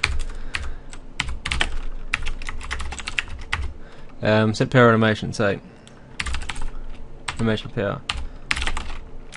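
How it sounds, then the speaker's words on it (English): Rapid clicking keystrokes on a computer keyboard in bursts and steady runs, close and crisp, with a voice briefly talking over the typing in the middle. "Still getting used to this keyboard."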